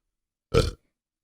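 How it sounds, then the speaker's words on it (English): A single short, loud burp recorded up close on a new microphone, a rough guttural belch lasting about a quarter second, with no other sound around it. "How'd that burp sound on my new microphone?"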